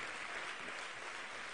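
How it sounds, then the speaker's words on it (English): An audience at an entrepreneurship forum speech applauds in a continuous, even wash of clapping, fairly quiet and with no pauses. "Another round of applause"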